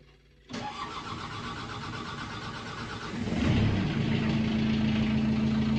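A Hanix S&B 480 mini excavator engine cranks and catches after a short quiet pause, then settles into a steady, loud diesel idle that rises slightly and holds a low, even hum.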